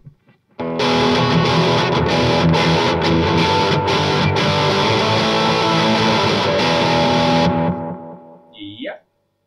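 Electric guitar played through a delay pedal on a two-amp pedalboard rig, a loud sustained distorted chord wash for about seven seconds, then fading repeats and a brief tail.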